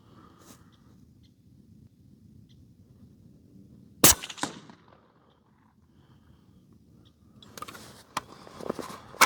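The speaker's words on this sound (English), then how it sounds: "For the Sako, we're gonna first shoot with Retumbo, the 150 ABLR." A Sako S20 rifle fired with a Retumbo-powder 150 ABLR load, one sharp, loud crack partway through with a brief ringing tail against quiet outdoor background, followed later by softer clatter and knocks.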